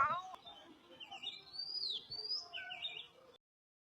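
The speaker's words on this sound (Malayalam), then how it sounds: "കിളികളുടെ ഒച്ചകൾ കേൾക്കാം" Small birds chirp and trill outdoors near rocks, a thin high twittering that rises and falls for a few seconds, fairly faint.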